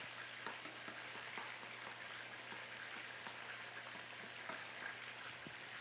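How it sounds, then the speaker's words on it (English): Chopped onions sauteing in butter in a pan make a steady, soft sizzle and hiss, close by and unbroken, with faint ticks and pops scattered throughout and no talking. "We're sauteing our onions until they are just translucent."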